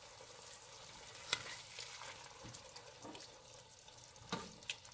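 Diced tomatoes are stirred in a cooking pan, a quiet soft sizzle under occasional scraping and clinks of the utensil, faint and without talk.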